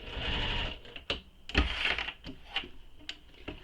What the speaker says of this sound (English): I back stitch, and that just locks in the stitches there